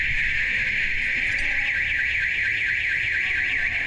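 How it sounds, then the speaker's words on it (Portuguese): A car alarm blares a loud, continuous warbling tone, steady and close, with no other sounds above it. "Putz, mano, esse alarme ferrou com nós."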